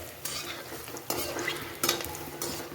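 Soybean kabobs frying crisp in a hot pan give a steady sizzle, with stirring and the scrape and clink of a utensil against the pan in several short bursts.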